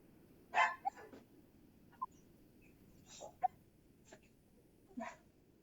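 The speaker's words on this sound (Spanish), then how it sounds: "La reto a una y se pone a ladrar la otra." A dog gives a few short, scattered barks and yelps, faint and somewhat distant, separated by pauses in a quiet room.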